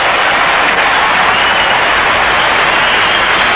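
Football crowd at a 1992 AFL match between Adelaide Crows and Richmond roaring and applauding after a long-range goal, a loud, dense, unbroken wall of cheering throughout.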